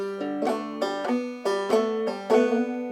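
Banjo picking a short phrase of I'm Going To Marry with an open pull off, bright plucked notes in quick, even succession, close and clear with no voice.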